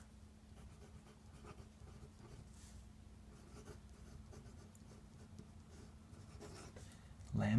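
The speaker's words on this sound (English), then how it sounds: "So I'll write that here." Chalk or marker writing on a board during a physics lecture on moments of inertia, a soft continuous scratching and rubbing that runs faint and steady throughout, with a louder knock near the end.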